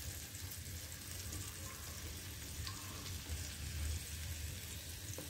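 Chicken tikka pieces sizzle and fry steadily in a hot pan, a continuous crackling hiss with soft stirring, faint and even throughout with no voices.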